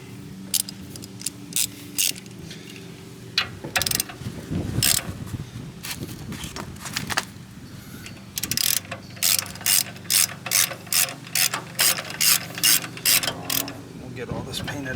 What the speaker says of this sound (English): I'm breaking these free with the breaker bar, and then we'll use the ratchet